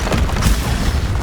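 Booming blast from the Confringo fire spell in the video game Hogwarts Legacy, a dense low rumble that swells and rolls through the short moment with no clear break.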